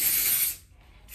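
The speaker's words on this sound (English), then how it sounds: "so I'm about to go ahead and spray the lace." A single long hissing spray from a pump bottle onto wig lace, loud and close, lasting about half a second before easing off, with a brief second burst at the end.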